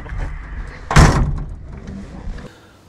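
A single loud car door slam near the mic, with soft rustling and movement before and after.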